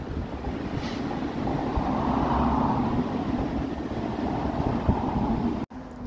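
Rumbling low train noise at a railway station on the West Yorkshire Metro line to Saltaire, a steady mid-distance drone that swells gently and cuts off abruptly near the end, with no talking.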